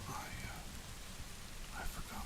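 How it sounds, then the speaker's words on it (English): A faint, steady rain sound effect hisses through a rainy bamboo forest scene, soft and continuous with a few slightly brighter patter swells, with no clear talking. "I forgot to set the rain to loop."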